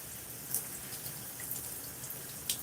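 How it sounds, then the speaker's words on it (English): Water splashes softly onto curly hair during a wash-and-go styling session, a faint, continuous trickle broken by occasional small splashes and drips. "And I'm going to put some water."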